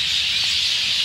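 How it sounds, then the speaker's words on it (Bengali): A dense, hissing wash of many birds calling at once from a wood apple tree, loud and continuous with no distinct individual notes. "পাখিটি গান গাইতেছে"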